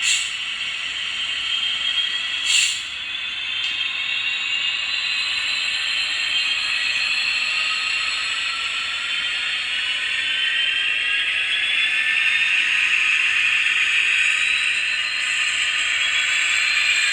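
A toy train runs steadily with a rising, whirring motor whine and a faint mechanical ticking underneath, continuous and fairly close with no talk.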